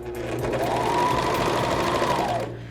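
A serger sewing machine runs a short burst while stitching a rolled hem on linen napkin fabric, a fast even whirring chatter that holds steady for about two seconds and then slows to a stop.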